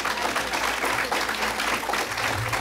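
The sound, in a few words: applause for law enforcement and military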